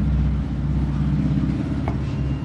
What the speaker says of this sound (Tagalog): that is the sounds of motorcycle outside